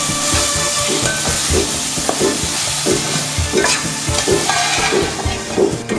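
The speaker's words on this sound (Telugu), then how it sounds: "మొత్తం అన్నీ కలిసేటట్లు బాగా కలిపి నూనె సపరేట్ అయ్యేంత వరకు వేపండి" Onion, ginger, garlic and chopped tomato fry in oil for a murrel fish curry. A loud, continuous sizzle runs under quick, rhythmic spatula strokes that scrape and toss the mixture up close.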